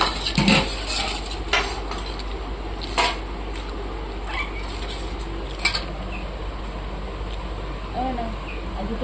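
Rice is served onto a plate at home, with metal spoon and dish clinks ringing out sporadically over steady room hum while people talk nearby.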